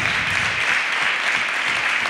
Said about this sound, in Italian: chiedo un applauso